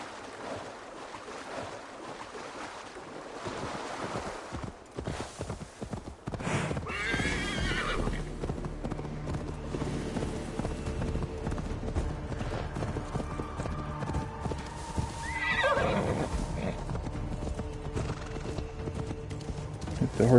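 Horse neighing and hooves clopping in Assassin's Creed Valhalla, a whinny rising around the middle and another near the end over steady hoofbeats and a dense game ambience.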